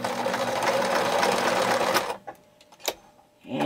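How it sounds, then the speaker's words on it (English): A sewing machine stitches across the corner of a knitted purse, running steadily and loudly for about two seconds before stopping, followed by a few soft clicks and handling sounds. "just lay it on your machine and sew it across"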